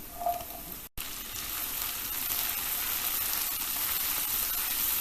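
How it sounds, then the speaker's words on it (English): Mushrooms and garlic fry in a pan with a steady, close hiss of sizzling oil. It breaks off for a moment, then returns louder and keeps going evenly, with no talking. "So this is the time to add in the mushrooms."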